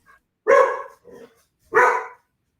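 A dog gives two loud, close barks about a second apart, with a softer yip between them and no talk over them.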